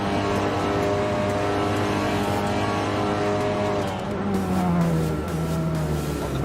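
Virtual race cars in the Volkswagen Virtual Racing Championship video game roar continuously at close range, engines revving and shifting pitch as they brake and accelerate through a turn, loud and steady throughout.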